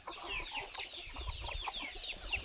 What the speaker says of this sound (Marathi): भरपूर कोंबड्या आहेत त्यांच्याकडे.